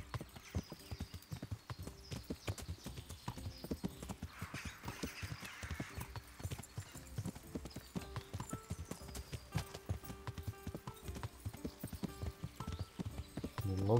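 Horse hooves clip-clopping in the video game Kingdom Come: Deliverance, a steady, quick gait of soft, even hoofbeats on the ground, faint and continuous with no other sound above it.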